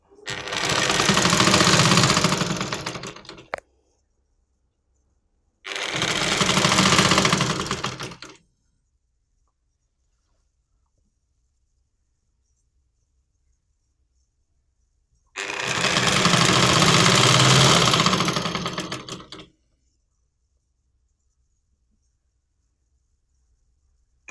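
Sewing machine running three separate stitching bursts along the shoulder seam of a readymade nighty, each burst a steady whirring drone lasting a few seconds, separated by silent pauses, loud and close.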